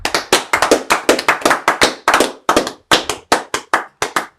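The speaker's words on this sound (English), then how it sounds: "You go clap it up for the brother." A group clapping at a Sabbath service, sharp close hand claps in an uneven, quick rhythm of about twenty claps, loud and alone with no talking.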